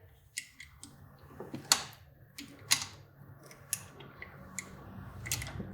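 Needle nose pliers working the clutch cable of a Kawasaki Ninja 400 through its fitting, a series of sharp metallic clicks and ticks at irregular intervals over a quiet background.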